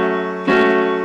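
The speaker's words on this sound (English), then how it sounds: "Hold your pedal down. It'll sound like this." A sustained piano chord rings on, then a new chord is struck and blends into the lingering resonance.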